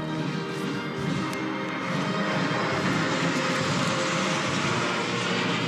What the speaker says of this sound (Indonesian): Sama-sama kita saksikan dari parade pesawat terbang mengeluarkan asap